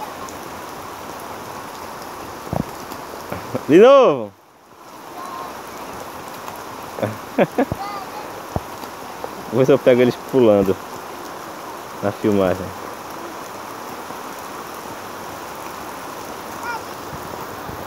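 Steady rain falls on an outdoor yard where children jump and splash in puddles, a constant wash of drops running throughout while an adult voice and children's shouts come in brief bursts over it.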